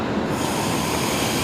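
Passing train near Brisbane Airport at night gives a continuous, fairly loud roar with wheel squeal and rail noise throughout, no voices over it.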